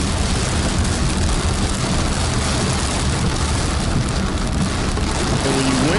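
Very heavy tropical rain pours down in a Puerto Rico rainforest, a dense, steady roar of water that stays loud and unbroken throughout, with no talking heard.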